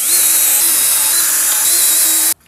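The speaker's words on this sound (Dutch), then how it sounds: "En dan kunnen we de gaten boren." A power drill whines steadily at high speed, boring holes in wooden cladding boards on a carport, then cuts off abruptly near the end.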